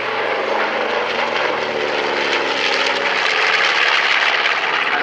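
A North American B-25 Mitchell bomber flying close by, its twin piston engines and propellers giving a loud, steady, rough drone with a rising swell toward the end.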